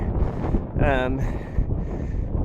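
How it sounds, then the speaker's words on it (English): Strong wind buffets the microphone throughout in a low roaring rumble during a cycling race climb, with a brief voice rising out of it near the middle. "Very windy through here."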